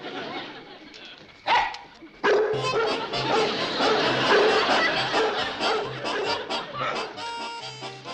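A dog barks repeatedly in short, excited yips amid a noisy comic scene with people shouting and laughing around it.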